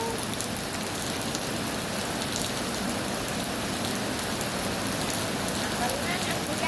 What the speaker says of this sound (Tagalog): Naglaro sa ulan, yung sarap ng ulan.